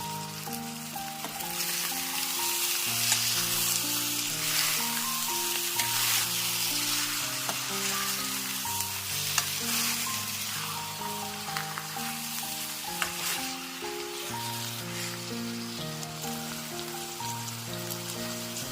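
Whole uncut chicken livers fry in a pan for pepper dry, giving a steady, close sizzle that holds loud throughout, with soft musical tones running beneath and no talk.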